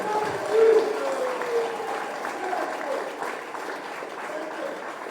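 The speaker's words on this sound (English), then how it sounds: "Give them a big round of applause." An audience applauds at a community meeting where the president meets residents in West Demerara, a sustained, fairly loud clapping wash with a brief swell near the start.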